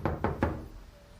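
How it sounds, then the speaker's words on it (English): Three firm knocks on a door in quick succession, fairly close and alone, with a quiet room tone after the last rap. "Hold on, Johnny, the door"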